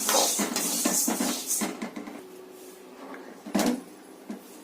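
Spice powder ingredients being dry-roasted in a pan, with a series of scraping, clattering stirs against the metal, busy at first and then sparser, close and moderately loud.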